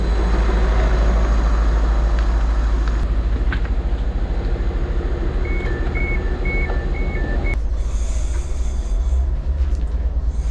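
A passenger train arrives at a station in Norfolk with a loud, continuous low rumble, while a short series of electronic beeps sounds partway through before the noise shifts and settles.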